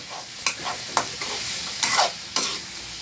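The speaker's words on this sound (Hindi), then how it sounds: "अब अच्छा से भून जाएगा तब और अच्छा लगेगा दोस्तों" Chicken curry sizzles in a pan as a spoon stirs it in several distinct scraping strokes, close and fairly loud over a steady frying hiss.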